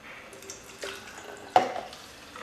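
Water poured from one container into another during a children's conservation task, a soft trickle with a couple of clinking knocks of the vessels, fairly quiet and close.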